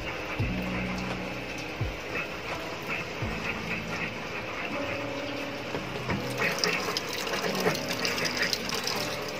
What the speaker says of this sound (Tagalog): humigop na siya ng tubig